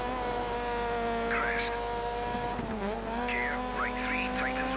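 A rally car in the Dirt 3 racing game skids and squeals its tires over a loud, steady engine drone. Short wavering squeals repeat through the second half.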